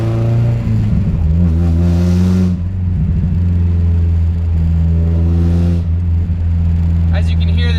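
A loud straight-piped, supercharged Mazda Miata drift car revs hard and steadily, its deep engine drone holding close and dominant with a couple of throttle swells, while a voice talks over it.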